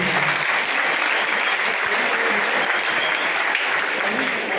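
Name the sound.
loud applause for member of parliament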